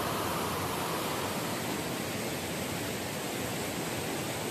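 Water rushing forcefully over Kumdal dam, a loud, dense, steady roar that stays constant and close without pause or voices.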